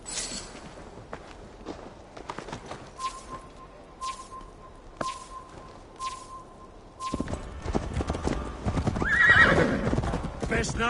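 Horse hooves clip-clop at a steady walking pace in Assassin's Creed Valhalla, joined by a horse's whinny and occasional faint birdsong, and the hoofbeats and ambient noise swell louder toward the end.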